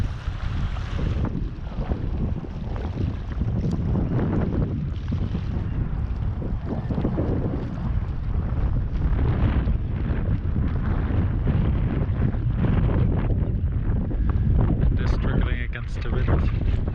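Steady, roaring wind buffets the microphone throughout beside a small pond in Hyde Park, London, with broadband rumble and gusts rising toward the end; faint talk may be buried underneath.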